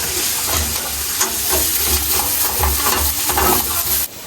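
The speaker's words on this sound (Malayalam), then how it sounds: "ഇനി ഇതൊരു നല്ല ബ്രൗൺ കളർ ആവുന്നത് വരെ നമ്മളിത് ഇങ്ങനെയിട്ട് വഴറ്റണം" Shallots and green chillies sauté in a pan with a steady, close sizzle and hiss, broken by rhythmic stirring scrapes, until the frying noise drops away sharply at the very end.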